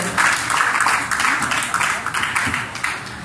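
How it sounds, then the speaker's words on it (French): Wedding guests in a church applauding the Bible bearer during a nuptial ceremony, a dense sustained wash of many hands clapping at moderate distance, with some voices mixed in. "Je vous demande d'applaudir Néhémie Sévarin, le porteur de la Bible."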